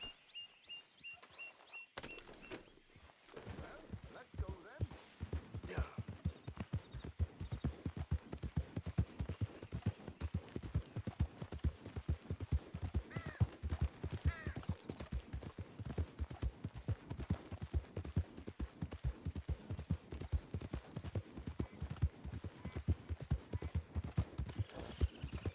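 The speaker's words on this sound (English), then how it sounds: "Acho que não é assim que se dirige um cavalo" Horse hooves clip-clop steadily in Red Dead Redemption 2, a continuous rhythmic walking or trotting pattern, close and fairly loud after a brief quiet start, with faint ambient game sounds beneath.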